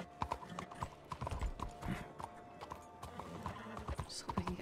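Horse hooves clip-clop in a quick, uneven rhythm in a RedM roleplay video game set in the Old West, close and clear, with a brief whinny mixed among the steps.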